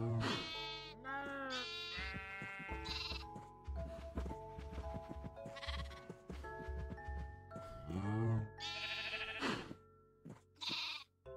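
Blocky Minecraft sheep bleat repeatedly, several wavering calls close by, interleaved with soft game thumps and some speech-like sound.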